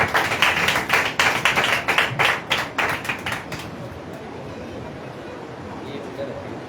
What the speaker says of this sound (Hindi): आइए जोरदार तालियां परमेश्वर का दास को